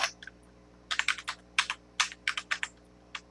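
A computer keyboard is tapped in a burst of about a dozen sharp keystrokes while a command is entered on Linux, irregular in rhythm, close and fairly quiet over a low steady hum.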